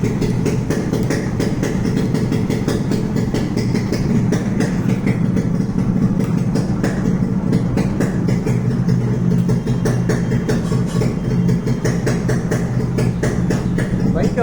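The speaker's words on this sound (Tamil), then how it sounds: "ஆனால் இன்னும் பைக் ரன்னிங்கில் தான் இருக்குது." A Yamaha RX100 two-stroke motorcycle with a modified LED headlight idles steadily nearby, a continuous low, throbbing engine rumble that holds even throughout, with someone talking over it.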